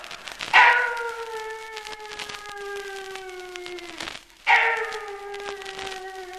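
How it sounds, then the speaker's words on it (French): A dog howls in two long, drawn-out wails that slowly fall in pitch, the second starting after a brief pause, fairly close and unaccompanied by speech. "C'était le chien qui hurlait à la mort."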